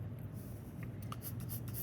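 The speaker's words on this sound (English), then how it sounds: "I'm using the point of the pencil now because I want these linear marks" Graphite pencil point drawing short linear strokes on paper to shade hair in a portrait sketch; faint, steady scratchy scribbling close by, with quick repeated marks and no talking.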